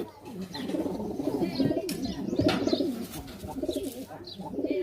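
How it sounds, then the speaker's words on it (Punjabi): A pigeon from across the Attari border, a ringed and stamped bird, coos in soft repeated low calls close by, with faint chirps and a light flutter mixed in. "ਪਾਰ ਦਾ ਕਬੂਤਰ ਹੈ"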